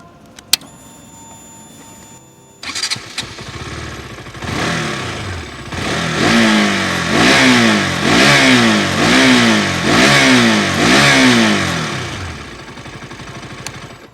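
A 2022 KTM RC 200 motorcycle with an underbelly exhaust starts, then revs repeatedly in rising and falling surges, loud and close, each rev swelling and dropping back in a steady rhythm.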